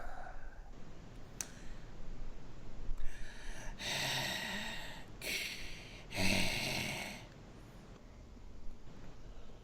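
A voice imitating heavy, Darth Vader–style breathing during a tabletop role-playing session, with two or three drawn-out, hissing breaths close to the microphone and quieter room noise between them.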